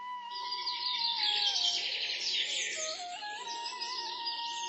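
Birds chirp and trill continuously at a moderate distance, with a steady high tone running underneath.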